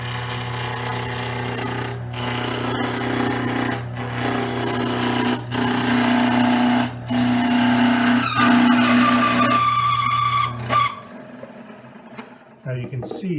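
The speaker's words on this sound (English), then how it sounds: "I'm just going to sharpen them today a little bit. Grinder's over in the corner." Bench grinder sharpening lathe tools in a workshop corner, with a steady motor hum under repeated scraping, grinding bursts as steel meets the wheel, before the machine cuts off near the end.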